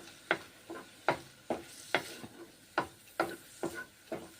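Paneer curry seasoned with pepper powder being stirred in a pan, a spoon scraping in about ten sharp, evenly spaced strokes over a soft sizzle, close and clear with no talking.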